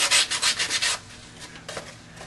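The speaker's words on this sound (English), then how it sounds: "A light bit of sanding on the curved part." Light hand sanding along the curved edge of a small DIY balloon-powered hovercraft, a series of rapid scratchy rubbing strokes for about a second, then quieter, sparser rubs close by.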